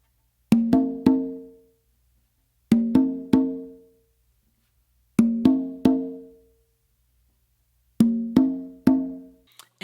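A conga and tumba play part of a mambo tumbao: four short groups of three ringing open hand strokes each, sharp attacks with quick decays, close and clear with pauses between groups.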